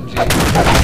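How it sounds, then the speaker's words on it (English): A burst of rapid SMG gunfire from the video game Minerva: Metastasis, loud and dense, filling the whole brief moment with overlapping shots. "More SMG."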